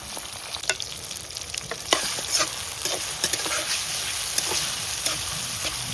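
Shrimp coated in salt and turmeric frying in hot oil in a kadai, a steady close sizzle with crackling pops and occasional stirring scrapes, no talking.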